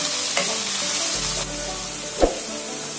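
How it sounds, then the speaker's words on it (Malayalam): Green chillies sauté in hot oil with a continuous bright sizzle, while a utensil stirs through them with soft scraping strokes and one sharper knock against the pan near the end. "അത് നമുക്ക് ഈ എണ്ണയിലേക്ക് ഇട്ട് കൊടുക്കാം. നല്ലവണ്ണം വഴറ്റിയെടുക്കാം."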